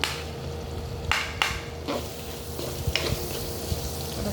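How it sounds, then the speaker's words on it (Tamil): Green chillies with green and red capsicum sizzle steadily in a hot pan for spaghetti, with a few quick scraping stirs of a spoon cutting through the constant frying hiss. "இதை நல்லா மிக்ஸ் பண்ணணும். இப்போ கூட எல்லாம் போட்டுட்டு நல்லா மிக்ஸ் பண்ணணும்."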